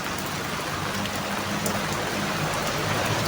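Steady rain pours down outdoors on a gray morning, a dense continuous hiss of drops on surfaces with no letup, fairly close and even throughout, with no voices.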